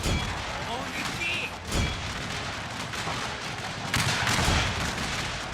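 Artillery fire in a video game battle at Ball's Bluff, with a dense wash of distant cannon and gunfire booms rolling under steady battle noise, a sharper burst near the start and a louder swell toward the end.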